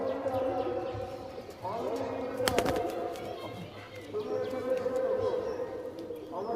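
A pair of pigeons in a loft coo back and forth, their low rolling calls repeating over a steady background murmur.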